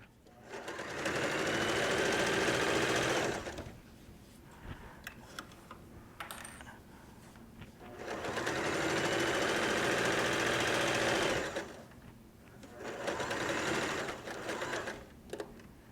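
A sewing machine stitches fabric for a potato bag in three loud, steady bursts of fast mechanical running, separated by quiet pauses.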